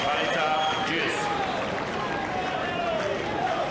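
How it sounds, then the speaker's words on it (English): A tennis crowd at a 2007 Rome semifinal claps and cheers in a dense, continuous wash of applause, loud and close, with voices mixed into the noise. "This crowd is so amped up, they're clapping before the point's even over."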